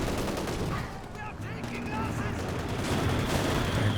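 Dense gunfire from a Company of Heroes 2 online 2v2 match: rattling machine-gun bursts and rifle shots overlap with battle noise, loud and continuous, while a commentator talks over the fighting.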